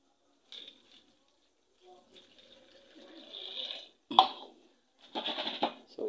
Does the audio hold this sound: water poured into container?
yes